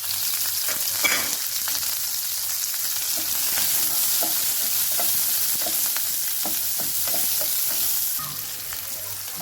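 Mashed onions sizzle and fry in a pan for a home pasta recipe, a continuous bright hiss with repeated scraping stirs and soft clinks of the spoon throughout, close up and unaccompanied by talk.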